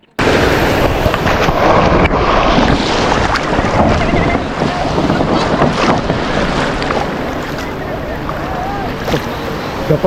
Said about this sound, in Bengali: ঢেউটা আসে তখন এর সাউন্ডটা শুনে অনেক ভালো লাগে যে বড় বড় ঢেউগুলো আসছে